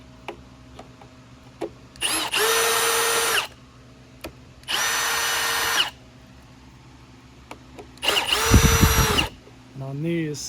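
Power driver spinning screws back into a Cirrus CR99 vacuum during a tune-up, three loud separate whirring bursts of a couple of seconds each with quiet pauses between, close and clear with no talk.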